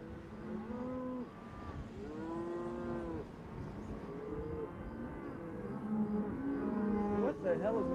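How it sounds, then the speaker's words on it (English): A herd of cattle lows around a remote line shack in an old Western, several long moos overlapping at moderate distance, rising and falling over a steady outdoor rumble. "Yeah, we're surrounded by cattle."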